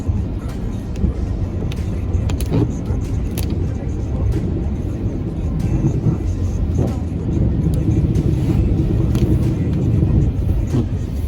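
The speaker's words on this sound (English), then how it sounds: "We didn't plan on going off-roading" Trucks driving a rough track in South Texas give a loud, continuous engine rumble with jolts and rattles from the bumpy ground, and a voice occasionally talks over the noise.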